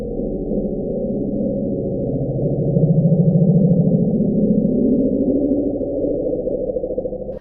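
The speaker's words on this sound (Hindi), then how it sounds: "1997 में national oceanic and atmospheric administration ने महासागर में एक बहुत" A loud, unidentified low ocean sound recorded underwater by NOAA in 1997, sped up, plays as a continuous rumbling drone that swells in the middle, with no voices.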